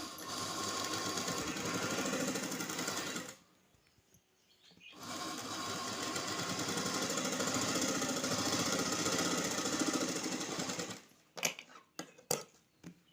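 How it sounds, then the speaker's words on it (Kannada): An electric sewing machine stitches an embroidery blouse in a fast, steady whir, running for about three seconds, pausing briefly, then running again before stopping with a few clicks and knocks. "ಈಗ ನಾವು ಈ ಮಾರ್ಕ್ ಹಾಕೊಂಡಿರೋದ ಮೇಲೆ ನಾವು ಸ್ಟಿಚ್ಚನ್ನು ಹಾಕಬೇಕು."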